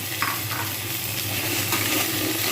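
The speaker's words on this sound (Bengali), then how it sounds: "আলুগুলো আবার ফের দিয়ে কিছুক্ষণ নাড়তে থাকবো" Potatoes stirred and frying in a pan for a vegetable ghonto, a steady close sizzle with a few soft scraping strokes of a spoon through the short stretch, no voices.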